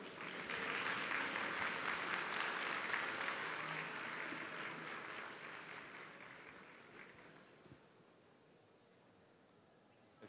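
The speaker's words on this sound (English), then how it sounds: "let's welcome Mrs. Cheryl McPherson with a round of applause, please." Audience applause at a Campus Party tech conference talk, a dense wash of clapping that swells loud at the start and gradually thins and fades over about ten seconds, with no voices over it.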